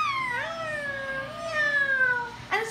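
A cat meowing up close, two long, drawn-out, wavering meows followed by the start of a third, clear and loud over a faint background.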